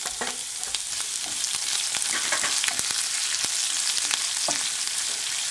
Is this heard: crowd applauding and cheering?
no